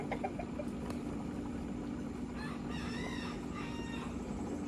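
Several roosters crow, some near and some farther away, a few drawn-out calls coming one after another over a steady background hum.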